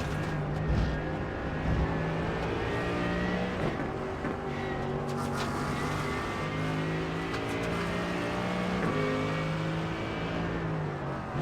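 GT3 race cars thunder down a straight at Spa in a racing video game, several engines droning and shifting together with steady rising and falling pitch, loud and continuous throughout.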